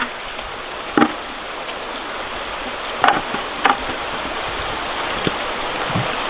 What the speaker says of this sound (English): What I do is I'll put some water in there.